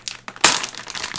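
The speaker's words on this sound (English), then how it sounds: "Pull that tape off." Packing tape is torn off a Gigabyte G1 Gaming RX470 graphics card box, with a short crinkly rip and a louder tearing crackle midway, close and alone.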